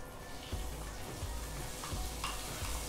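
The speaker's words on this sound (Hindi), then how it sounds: "जीरा 1 छोटा चम्मच, तेज पत्ता ये ले लेते हैं, जीरा भून लेते हैं थोड़ी देर।" Cumin seeds and bay leaf roasting in hot oil in a pan on an induction cooktop, a steady soft sizzle with light stirring scrapes recurring every half second or so, close and alone without talk.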